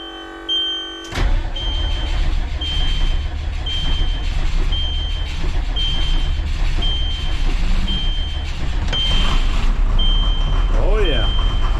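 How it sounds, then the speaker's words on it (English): An old Cummins diesel engine cranks and catches, then idles with a steady low rumble, while a repeated warning beep sounds over it and people talk nearby. "The old Cummins gonna fire up?"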